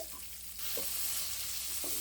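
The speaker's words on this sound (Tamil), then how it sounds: "நான் பெரிய வெங்காயம் ஒரு 3 நறுக்கி இருக்கிறேன் வதக்கிறதுக்கு" Sliced onions sizzle and crackle steadily in a hot pan, with a couple of soft scraping stirs from a spatula close by.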